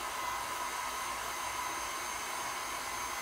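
A hair dryer blows steadily and unbroken, drying acrylic paint on a black canvas, with no voices over the constant whoosh.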